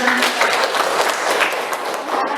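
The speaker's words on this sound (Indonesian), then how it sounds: "Tepuk tangan dulu untuk Nanda" A classroom of students claps for a classmate, a dense, steady patter of hands filling the short stretch with voices mixed underneath.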